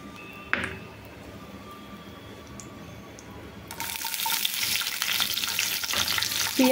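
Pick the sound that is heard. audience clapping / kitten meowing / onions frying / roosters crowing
onions frying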